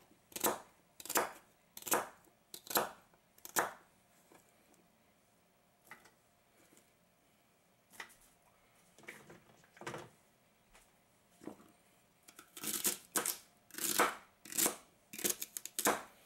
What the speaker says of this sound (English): The celery, just grab 3 or 4 stalks. Cut them up.